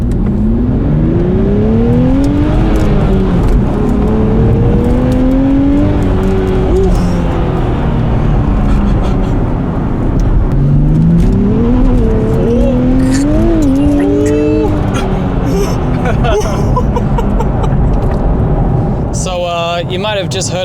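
A Nissan Fairlady 400Z driven hard, its engine note rising and falling through gear changes with steady road and tyre roar as it runs fast over bumps; loud and close throughout, with a burst of harsh rattling near the end.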